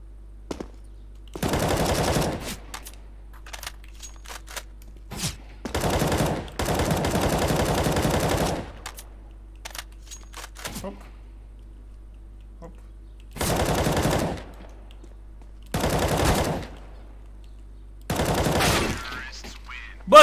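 Gunfire in the shooter game CS:GO: several loud bursts of rapid automatic shots separated by quiet gaps, with a voice talking between bursts.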